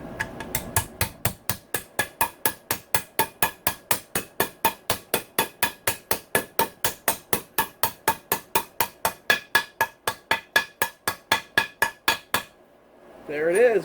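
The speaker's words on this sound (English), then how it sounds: "You will not do any damage to this bearing hitting it the outer race like that with a hammer." Rapid, steady hammer blows drive a steel bearing into a Honda CRF450R engine case, dozens of sharp ringing metal clangs in a regular rhythm, close by, ending with a brief voice.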